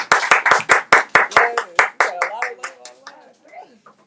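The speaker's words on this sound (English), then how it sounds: "please give Dr. Preston another round of applause for all the hard work" Audience members at a book release and signing clap for the author. Loud, evenly spaced individual claps come close together, then thin out and fade while faint voices continue underneath.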